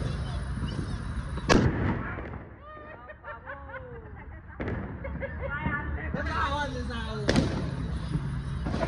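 Diwali paper-blast firecrackers go off in two sharp, loud bangs several seconds apart, with people talking and exclaiming in between.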